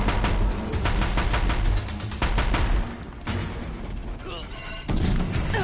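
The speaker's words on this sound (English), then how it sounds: "Deathbringers keep firing" Deathbringer machines from Horizon Zero Dawn unleash rapid machine-gun fire in several loud, close bursts separated by short pauses, mixed with mechanical game noise.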